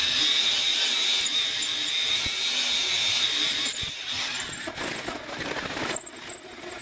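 A drill grinds through an aluminum steering knuckle with a steady, high-pitched metallic whine, close and continuous, turning rougher and more chattering toward the end.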